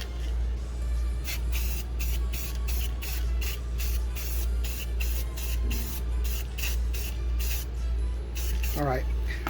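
A Krylon Fusion spray paint can hisses in repeated short bursts with quick gaps, close and loud, over a steady low hum of machinery. A brief voice comes in near the end.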